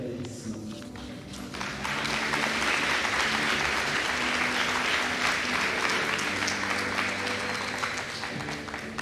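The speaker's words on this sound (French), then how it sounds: "je vous invite à leur donner une bonne main d'applaudissement." An audience at a twelfth-grade graduation ceremony breaks into sustained applause, many hands clapping steadily at moderate volume in a large hall for several seconds.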